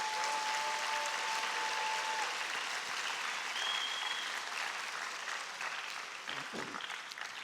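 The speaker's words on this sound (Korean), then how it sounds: "우리 감사의 박수, 격려의 박수 한번 하겠습니다." A church congregation at a Wednesday service gives sustained, steady applause throughout, dense and full, tapering slightly toward the end.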